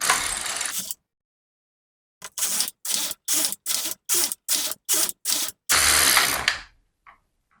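A domestic knitting machine carriage is pushed back and forth knitting rows of a sample swatch: about eight quick, close mechanical ratcheting passes in a steady rhythm, then one longer pass, with no talk.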